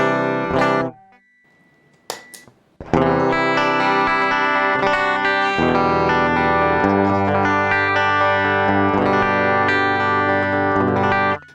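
Electric guitar played through an MXR Rockman X100 pedal on its clean setting, with added stereo reverb giving a bright, wet, chorused tone; a brief strum and a short pause, then sustained ringing chords that fill the rest of the passage.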